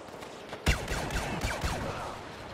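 Gunfire in the Star Wars Battlefront video game: a sharp loud shot leads into a dense run of overlapping blasts and zaps that continue steadily through the rest of the moment, with no talking.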